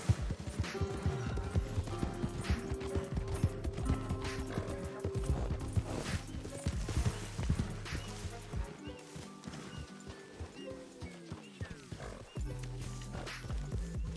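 Horse hooves clip-clop amid a busy, layered soundscape in the video game Red Dead Redemption 2, with music, a whinny and other animal and ambient noises throughout.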